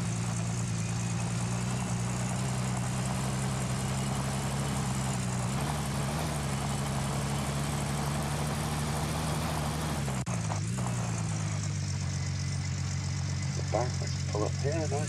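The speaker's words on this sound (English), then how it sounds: "I'll turn the engine off." A truck engine idles in Gold Rush: The Game, a steady low rumble that holds for the whole stretch with a brief dip partway through, while a voice speaks over it.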